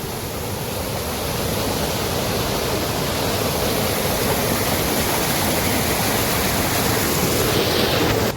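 Floodwater after heavy rain rushes through a ravine, a loud, steady, unbroken roar of turbulent water close by with no talking.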